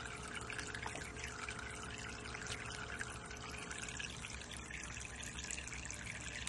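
Water pouring in a continuous splashing stream into a tub for a parrot's bath, steady and close throughout, with no voices.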